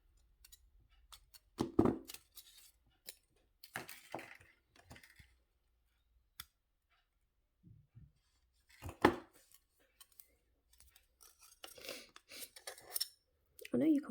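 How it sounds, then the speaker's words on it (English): Thin weaving wire being snipped with cutters while making octopus wire-wrap earrings, giving several sharp close clicks and snips spread between quiet pauses, with small handling rustles. "I'm going to cut that weaving wire there"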